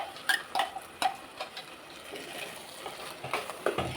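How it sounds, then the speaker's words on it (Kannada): Ground green masala for a cabbage and peas gravy fries in oil, with soft sizzling under repeated sharp clinks and scrapes of a spoon stirring against the pan. "ಈಗ ರುಬ್ಬಿರೋಂಥ ಮಸಾಲೆ ಹಾಕ್ತಾಯಿದ್ದೀನಿ. ಇದು ಜಸ್ಟ್ 1 ಸೆಕೆಂಡ್ ಇದು ಎಣ್ಣೆಲಿ ಇದು ಕೂಡ ಸಹ ಫ್ರೈ ಆಗಬೇಕು"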